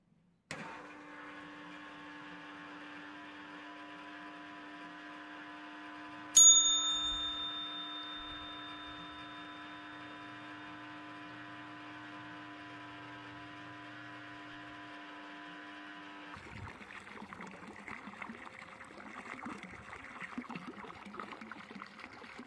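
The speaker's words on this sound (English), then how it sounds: "I think I've managed to get the bilge pump into the main part of the engine, and hopefully it's going to pump a lot of it out for me" A bilge pump works steadily, pumping water out of a flooded narrowboat engine bay with a continuous mechanical hum. A sharp click partway through, and the tone turns rougher and more gurgling near the end.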